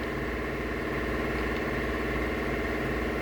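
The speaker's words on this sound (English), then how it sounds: "That compressor is the loudest compressor I ever heard in my life" A compressor running very loudly in a garage, a steady droning mechanical rumble with a buzzing, pulsing texture that holds constant and close throughout, with no talk.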